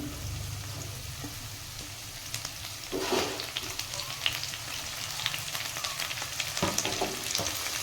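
Fenugreek leaves frying in a spiced gravy in a pan, a moderate close sizzle broken by a few louder stirring scrapes and clatters, with no talking.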